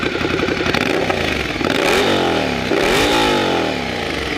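A 2017 Ducati Scrambler Cafe Racer with a Termignoni exhaust revs loudly and close, its engine rising and falling through a few throttle blips with a gritty, rumbling tone and no talking.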